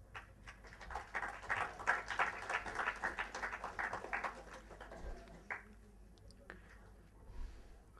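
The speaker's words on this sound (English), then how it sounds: "We welcome him with a applause." Applause from a bank audit seminar audience welcoming the next speaker, a dense patter of many hands rising for several seconds and then thinning into scattered claps near the end.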